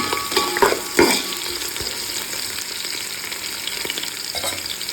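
Garlic, ginger and green chilli fry in oil in a pan for a fish roast, a loud, steady sizzle with spoon-stirring scrapes near the start, close and continuous.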